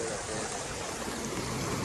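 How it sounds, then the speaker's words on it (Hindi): Fast-flowing river water at a mountain bathing spot, a broad, steady rushing hiss of churning current, close and unbroken, with no clear voices over it. "पानी का रफ्तार यार बहुत"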